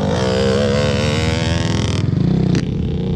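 A two-stroke dirt bike engine revs hard and holds high during wheelie practice, a loud, close, buzzing whine that wavers slightly, then dips briefly near the end, with no talking.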